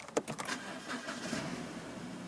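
A used car on a dealer's forecourt is started with its key, a brief click and crank followed by a steady engine idle, heard close up with no voices.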